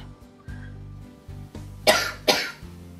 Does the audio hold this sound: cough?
yes